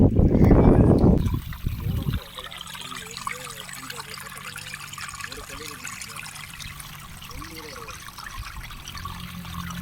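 Water runs out of a pipe into a mosquito-net fish trap during fishing at Pamban, a steady trickling stream that continues after a louder rushing burst at the start.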